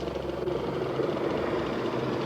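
A Lynx helicopter arrives overhead at an agricultural show with livestock and horses nearby, its engine and rotors a steady, loud, rumbling drone that stays constant across the short stretch.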